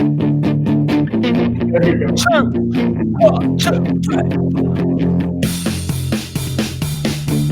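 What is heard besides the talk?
death metal style music demo with distorted guitar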